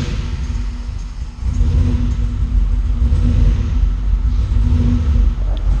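A Subaru WRX with a Megasquirt setup and a failing alternator fires up after cranking, its engine catching into a steady, loud idle rumble that continues alone.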